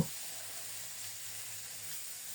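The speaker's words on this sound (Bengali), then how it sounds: "অল্প তেলে গোটা জিরা ফোড়নে দিলাম" Whole cumin seeds tempering in a little hot oil, a steady soft sizzle and hiss that runs evenly from start to end, fairly quiet and with no voices.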